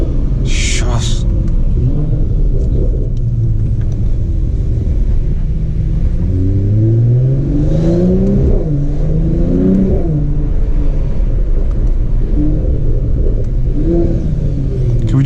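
A Mercedes CLS53 AMG straight-six engine rumbles loud and close, rising through several revving sweeps with the pitch climbing, while a voice speaks over it.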